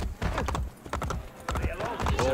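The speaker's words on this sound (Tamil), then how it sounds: "இது ஒண்ணு என் குதிரை" Horse hooves clip-clop in Assassin's Creed Brotherhood in a steady, close rhythm. Game sounds and a voice are heard over the hoofbeats.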